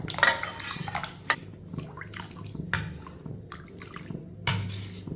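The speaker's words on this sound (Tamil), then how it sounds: "பருப்பை ஃபுல்லாக நல்லா கரண்டியில் மசச்சு விட்டு ஊற்றிக்கிடுவோம்" Mashed lentil water is poured from a ladle into a metal pot. The clatter and drip is close and moderately loud, with several sharp knocks of the ladle against the pot among the splashes, and no talking.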